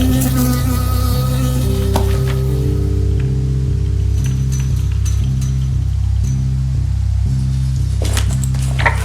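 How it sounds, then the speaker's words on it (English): Bee buzzing in the Firewatch video game, a steady droning hum that holds throughout with a pulsing rhythm, loud and close, with no voices. "I got stung by a bee."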